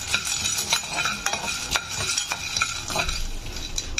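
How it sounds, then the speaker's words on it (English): Steady crackle and scrape of peanuts being stirred and fried in a pan, with rhythmic utensil scrapes against the metal, close by and fairly loud. "I'm frying for a few minutes and transfer to the plate"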